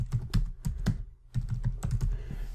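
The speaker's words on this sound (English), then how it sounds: "So all we did is type in a password." Someone types a password on a computer keyboard with quick bursts of close key clicks, a short pause, then more rapid taps, and no talking.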